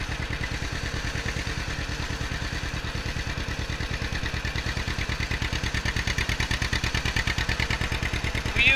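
A 1954 John Deere Model 60 tractor engine runs steadily, its loud, close, rhythmic chuffing pulse held throughout and growing slightly stronger toward the end.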